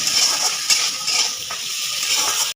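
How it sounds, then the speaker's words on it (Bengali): Beans, carrots and capsicum sizzle steadily in a hot pan while a utensil scrapes and stirs through them in quick repeated strokes, close and fairly loud. "এগুলো আমি একটু ভেজে নেব"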